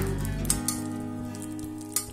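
Ghee melting in a hot pan gives a steady close sizzle, with a few light clinks of a utensil against the pan.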